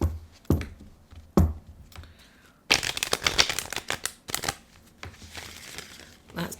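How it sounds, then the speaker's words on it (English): Playing cards being riffled and shuffled in quick crisp bursts, with a few sharp taps between, close to the microphone while someone speaks. "One last shuffle."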